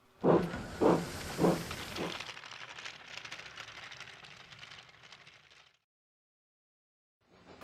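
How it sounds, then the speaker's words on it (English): A long hiss of steam escaping from a toy engine's safety valve, preceded by three short knocks, running steadily for a few seconds before cutting off into silence. "Steam hissed from her safety valve in an alarming way."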